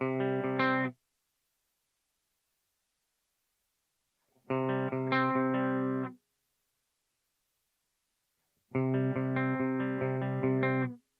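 Clean electric guitar from a Line 6 Helix, recorded through a 121 ribbon mic, plays three short strummed chords, each ringing about two seconds and then cutting off, with silence between them.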